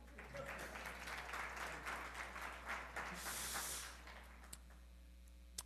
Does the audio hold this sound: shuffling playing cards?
no